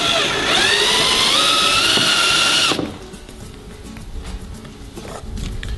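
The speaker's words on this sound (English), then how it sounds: "we can actually get the screwdriver or the cordless drill through" A cordless drill driving screws into a homemade rod holder whines at high speed, its pitch dipping as it bites, then cuts off; quieter handling noises and a brief whir follow.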